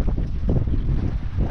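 Strong wind buffets a boat at sea around midday, a loud, steady roar of broadband wind noise hitting the microphone with water and hull rumble underneath, no talking.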